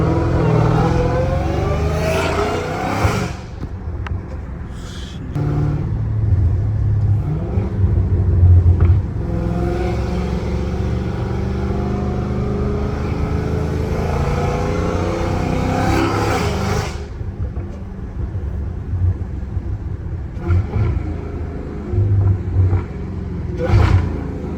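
A Dodge Challenger Hellcat Redeye engine rumbles loudly up close, with repeated rev surges and a deep low growl, while people talk over it.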